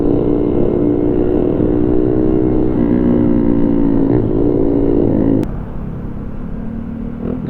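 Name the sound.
sports motorcycle engine riding nearby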